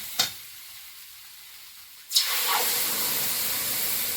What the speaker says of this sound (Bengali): বড় আলুটা ভালো করে ভেজে নিয়েছি এবার এর মধ্যে একটু জিরে গুঁড়ো আর ধনে গুঁড়ো